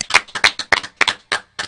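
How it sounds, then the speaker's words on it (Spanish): Applause from an audience at a Dominican community celebration, heard as a short run of separate, fairly close hand-clap bursts in an uneven rhythm with brief gaps between them. "un aplauso para José Alberto."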